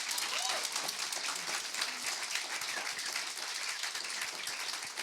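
Applause from a church congregation at an MLK Sunday service, steady and dense for several seconds with a few voices mixed into the crowd.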